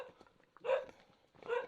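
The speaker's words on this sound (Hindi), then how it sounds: "ये कुत्ता काटता भी हुआ," A dog in a poor Uttarakhand village barks twice, about a second apart, fairly faint and set back from the listener, with quiet background noise between the barks.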